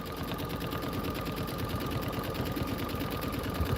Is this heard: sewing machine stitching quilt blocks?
yes